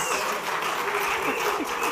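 A studio audience applauds on a talk show, a dense continuous clatter of many hands at close range, steady throughout the brief moment.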